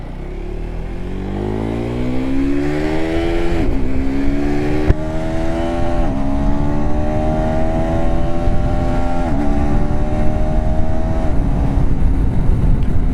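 KTM Adventure 390 motorcycle under way, the engine loud and close, winding up through several gear changes with rising pitch sweeps and a constant rush of wind.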